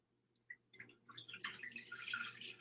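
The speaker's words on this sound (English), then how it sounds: "now I'm taking my water from my mason jar" Water pours from a mason jar into a pot, starting with a few faint drips and then settling into a steady, close trickling splash that grows slightly fuller as it continues.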